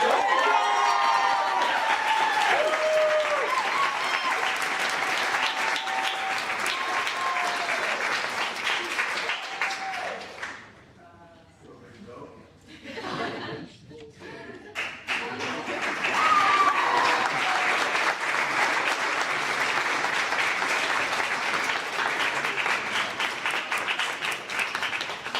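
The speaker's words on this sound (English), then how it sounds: "Give our graduates a round of applause." Sustained applause and cheering from a crowd honoring nursing graduates at a pinning ceremony, dipping briefly in the middle to a quieter patter with some voices, then swelling again loud and full.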